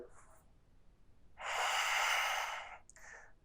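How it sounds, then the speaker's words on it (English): A deep, slow yoga breath, with a faint intake at first, then a long, strong exhale rushing out for about a second, and a short soft breath after it. It sounds close and quiet. "Breathing deep for 3,"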